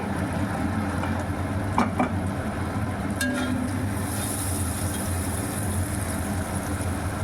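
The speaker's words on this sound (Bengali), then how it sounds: "এবার সব উপকরণ ভালোভাবে নেড়ে চেড়ে কষিয়ে নেব" Spice masala being stirred and fried in oil for a katla fish curry, a steady low sizzle running throughout with scraping spoon clinks, close and fairly even, no talking.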